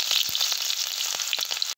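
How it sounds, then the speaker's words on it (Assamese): Onion, ginger, garlic and spices frying in hot oil, a steady close sizzle with faint stirring taps, alone with no talking. "এতিয়া মই অকণমান ভাজি ল'ম"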